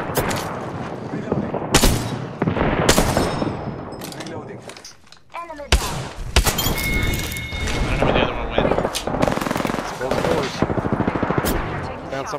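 Bursts of rapid automatic weapon fire and single sharp shots from the Apex Legends battle royale game ring out repeatedly at close range, mixed with excited players talking over the action.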